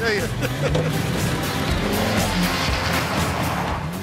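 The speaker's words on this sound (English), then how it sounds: "Just being a hooligan, sliding about in the mud" Rally car driven sideways through mud using the handbrake, engine roaring close with tires churning and skidding continuously, someone talking over the noise.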